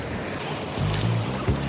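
Sea waves wash in on a sunny Odesa beach, a soft steady rush of surf that swells gently toward the end, fairly near and moderately quiet.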